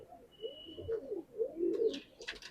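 A pigeon in a loft gives a run of soft, low, repeated coos, close and fairly quiet, with a couple of faint higher chirps near the end and no talking.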